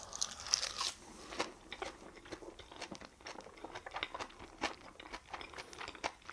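Close, crisp crunching and chewing from someone eating a pork bo-ssam wrap piled with garlic, in bites repeating steadily with no talk.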